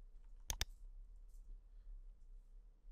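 Two quick computer mouse clicks on an admin button in a web hosting control panel, close and crisp in a quiet room, followed by faint low hum.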